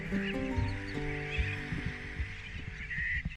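A sooty tern colony calling in a dense, continuous chorus of harsh, overlapping cries, heard from some distance with no voices.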